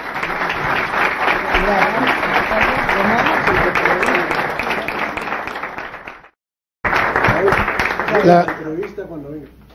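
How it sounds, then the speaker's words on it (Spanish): An audience applauds at a conference held in a Jewish community hall in Bogotá, with steady clapping that breaks off briefly and then resumes, while a voice talks over it. "Un fuerte aplauso y muchísimas gracias."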